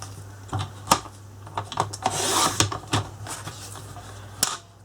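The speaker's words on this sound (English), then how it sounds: "I'm just going to pop this into my trimmer" A paper trimmer cuts cardstock for a handmade Halloween card: a series of sharp clicks and taps, with a longer scraping slide of the blade in the middle, close and clear over a low steady hum.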